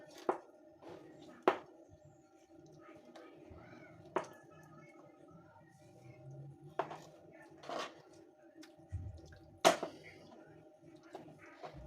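Knife slicing through raw chicken pieces for grilling, giving a series of short, close cutting strokes and taps at uneven intervals over light background noise.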